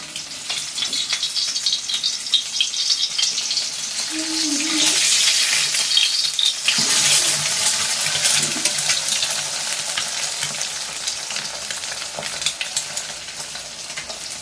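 Continuous close sizzling of an egg frying in a pan, with a few scraping and tapping sounds as the egg is flipped partway through.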